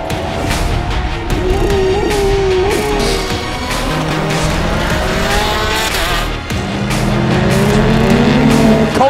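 European Le Mans Series endurance race cars roar side by side into the first corner, their engines snarling loudly and overlapping, with tires squealing and pitches shifting as the pack sweeps past, close and continuous throughout.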